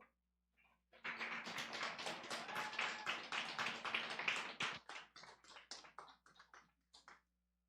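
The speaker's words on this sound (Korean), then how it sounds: "우리 나오실 때 큰 박수 부탁드리겠습니다" Audience clapping in a church service as the kindergarten Sunday school class comes forward for a salvation skit, a dense burst of handclaps that thins into scattered, separate claps before stopping.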